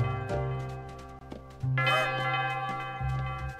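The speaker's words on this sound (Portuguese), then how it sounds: "O sino do festival está prestes a começar." A festival bell chimes in the Princess Peach Showtime video game, a few resonant strikes with ringing tones that swell and fade over a few seconds.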